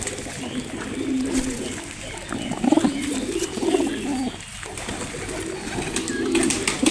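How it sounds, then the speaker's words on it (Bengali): Large pet pigeons coo in soft, repeated low throaty calls close by, continuing over a background of rustling and faint noise. "এই দেখে কত বড় কবুতর।"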